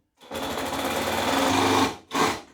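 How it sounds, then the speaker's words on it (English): A power driver whirs in two bursts, a long steady drive of about a second and a half and then a short final spin, as screws go into a slotted motor mounting block on a homemade table saw build. "it'll clamp down on the motor when I drive in the screws"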